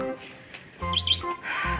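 A small bird chirps in a few bright, quick tweets at close range, mixed with household background noise and other indoor sounds.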